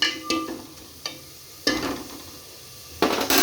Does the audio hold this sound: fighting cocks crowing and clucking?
no